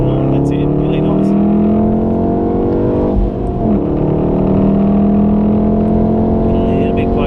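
VW Golf R with four-wheel drive on a race track, its engine droning loudly and steadily with a brief dip as revs change mid-run, and a voice heard faintly over the constant engine roar.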